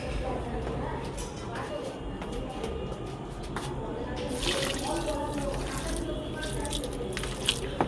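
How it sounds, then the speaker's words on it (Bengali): Water is poured onto potted plants, giving a continuous soft splashing and trickling that grows busier toward the end, with a voice faintly present underneath. "চলো গাছগুলোতে একটু জল দিয়ে দিই"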